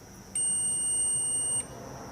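Steady high electronic beep from a multimeter on its continuity setting, lasting about a second and a quarter, close and clear, used while servicing a Loren Sid bivolt wall fan.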